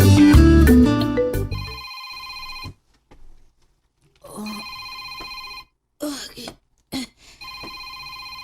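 A telephone rings in repeated electronic bursts with pauses between them, after a loud opening passage, with voices speaking briefly between the rings.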